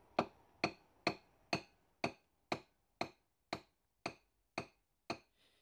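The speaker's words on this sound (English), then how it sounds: "Now we take our big hammer and check from time to time how far we've gone." Evenly spaced sharp metallic taps from a hammer driving a main jet into a Zenith-Stromberg 175CD2SE carburettor, about a dozen in steady rhythm, each ringing briefly before the next, in a quiet room.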